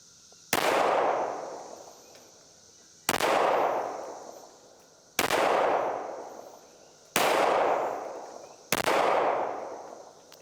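Five loud 5.7 pistol gunshots at a shooting range crack at a steady, unhurried pace, each sharp report followed by a long ringing echo, close and alone.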